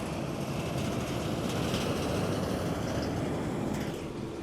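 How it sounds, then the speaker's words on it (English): A heavy vehicle roars past nearby, a loud, continuous low rumble with rattling that holds steady for several seconds without voices. "Extremely loud truck."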